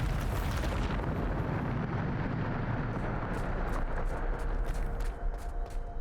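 Loud explosive blast of the Bombarda spell in Hogwarts Legacy, a broad roaring burst at the start that rumbles on with debris-like crackles and scattered pops throughout, with no voice over it.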